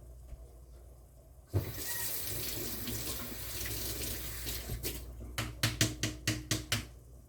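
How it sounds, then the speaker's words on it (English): Tap water starts running into a kitchen sink to rinse a large spoon and streams steadily close by. Toward the end, a series of rhythmic clanks and splashes follows as the spoon is handled under the flow. "I'm getting me a nice big spoon to go rinse her off her."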